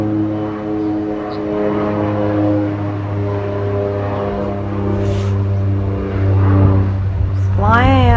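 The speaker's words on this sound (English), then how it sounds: "There is the yellow plane again." A yellow propeller airplane drones overhead in a steady engine hum during a passing rainstorm over a residential subdivision, swelling louder toward the end.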